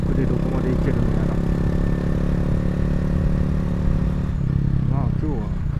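A Honda CRF250L motorcycle engine drones steadily close by while riding, a constant mid-pitched hum while a person talks over it.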